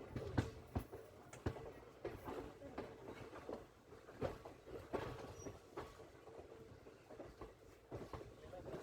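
A train rolls slowly into the platform at Satara railway station, its steady rumble broken by repeated clacks and knocks of wheels over rail joints, with a voice faintly present.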